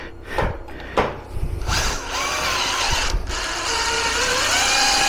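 Metabo GB18LTXBLQ cordless tapping drill cutting threads into a hole, a few sharp knocks then a loud whirring motor that rises and wavers in pitch as it runs steadily, close up.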